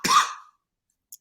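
A single harsh, close cough bursts out and fades within half a second, followed by near silence and a faint tiny sound.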